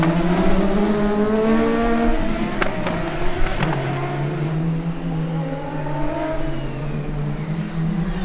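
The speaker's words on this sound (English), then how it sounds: "all these combustion engines roaring to life all around us" Formula Student race cars with combustion engines roar and rev all around at an endurance event, several engine notes rising and falling in pitch, loud and continuous with close passes.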